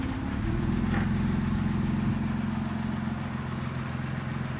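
A Mitsubishi FTO idles steadily through its exhaust, a low, even engine rumble that holds close and loud from start to finish with no voices over it.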